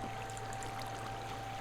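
Steady flowing water runs down a straight Minecraft water slide in the video game, a continuous trickling stream heard alone at low level without breaks.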